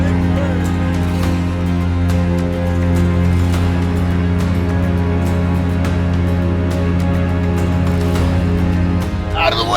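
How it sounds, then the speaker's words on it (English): A cruise ship's foghorn, aboard India's first premium cruise liner at Mumbai, blows one long, deep, steady blast for nearly ten seconds, loud and droning before cutting off. "That's called a foghorn, isn't it?"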